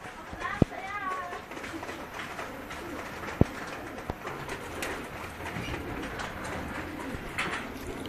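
Pet pigeons coo softly during training outdoors, with faint wingbeats, two sharp knocks and a person talking over the birds.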